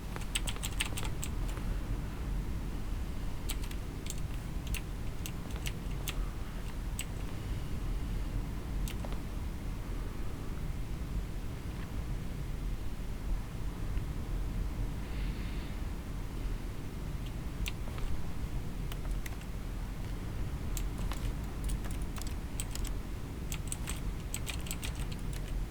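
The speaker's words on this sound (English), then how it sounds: "When I click, there's fucking keyboard sounds." Keyboard typing in The Stanley Parable clatters in quick, irregular bursts of keystrokes over a constant hiss, faint and continuous for about twenty-five seconds with no talking.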